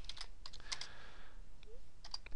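Quick, light tapping of keys on a computer keyboard, a short burst of clicks, a pause, then a few more, faint and close.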